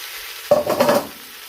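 Carrots are tipped into onions already frying in rapeseed oil and stirred, giving one short burst of scraping and sizzling that fades quickly into quiet.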